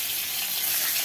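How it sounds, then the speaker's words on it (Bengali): Two fish fry in hot oil in a home kitchen, a steady, dense sizzle that stays close and even throughout, with no voices over it. "তেলটা গরম করে নিয়ে মাছ দুটো একটু ভেজে নিই"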